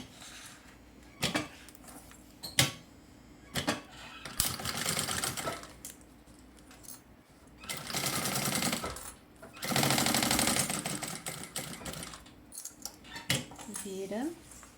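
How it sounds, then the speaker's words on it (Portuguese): Sewing machine stitching along the side of a cosmetic bag, with several short and longer runs of rapid mechanical whirring separated by pauses and handling clicks, under a woman's intermittent speech. "E aí a gente vai vir costurando da lateral."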